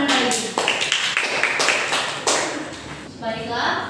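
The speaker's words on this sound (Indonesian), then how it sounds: "Beri tepuk tangan pada Dina." Classmates clap for a student in a classroom lesson, a short burst of irregular claps with a teacher speaking over and after them.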